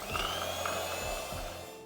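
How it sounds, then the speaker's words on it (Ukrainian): An electric mixer whips a gelatin glaze for Easter paska until white, a faint, steady motor whir with slight pitch shifts as the beaters move through the bowl, heard alone and briefly. "І міксером все швидко збиваю до біла."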